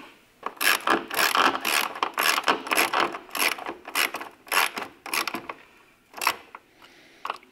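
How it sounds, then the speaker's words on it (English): Bolts are tightened while a part is reinstalled during painting work on a GSA Plus, heard as repeated rhythmic ratcheting and rasping bursts, close and fairly loud, with short pauses between strokes. "I'm not going to tighten them too much."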